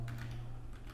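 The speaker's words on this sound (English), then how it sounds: "I'm going to type out amazon.com directly here" A computer keyboard is typed on in a quick run of soft, close key taps over a steady low hum.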